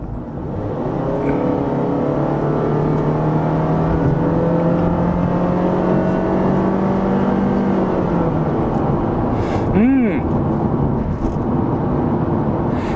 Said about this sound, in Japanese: 本線に出てフル加速してみたいなと思います。 50キロからね、100キロぐらいの加速です。